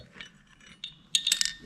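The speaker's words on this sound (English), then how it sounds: "drop these nylon lock nuts into the slots" Small nylon lock nuts dropping into the slots of a truck light-mount bracket, giving a few faint clinks and then a brighter cluster of metallic taps near the end.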